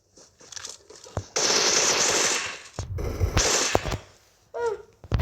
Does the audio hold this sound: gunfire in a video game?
yes